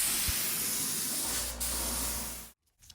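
A spray gun laying a polyurethane coat on a mid-century dresser gives a steady, close airy hiss lasting a couple of seconds, then cutting off sharply.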